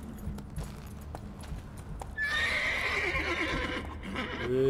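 In The Witcher 3 video game, hooves clip-clop in a steady rhythm, then a horse lets out a loud, drawn-out whinny that dominates the rest of the moment.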